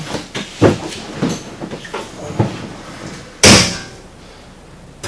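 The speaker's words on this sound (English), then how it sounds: "you can see we got full range of motion of the door" Pro Armor full door on a 900S side-by-side swung open and shut, several light knocks and rattles followed by one loud slam, close and with no talk.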